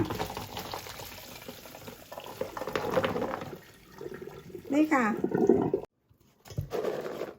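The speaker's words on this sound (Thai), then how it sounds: "แล้วก็มาเทน้ำเขาออก" Hot water is poured off a pot of Japanese-style boiled peanuts in a gushing, splashing stream that stops abruptly, followed by a brief spoken word.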